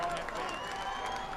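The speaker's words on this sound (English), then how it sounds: "Cyclone fans are applauding." Football fans applauding in the stands at a high school game between Russellville and Van Buren: a short stretch of steady crowd clapping with some cheering, heard at a distance beneath an announcer talking.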